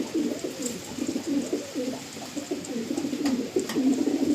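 Andhra Lambadi pigeons coo close by in a steady, overlapping stream of low throaty calls, several birds audible at once with little other noise.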